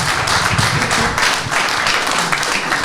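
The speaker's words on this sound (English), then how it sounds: "A big round of applause for our 4 panelists" An audience at a financial services industry panel gives a round of applause to four panelists, dense steady clapping filling the room throughout.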